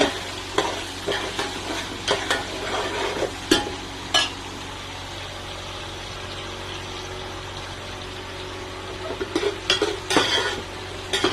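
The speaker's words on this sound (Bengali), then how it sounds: "কাজু দিয়ে দিলাম, একটু হালকা ফ্রাই হবে" Cashews lightly frying in a pan for a pulao, a soft continuous sizzle broken by intermittent scraping and stirring knocks of a utensil, close and fairly quiet.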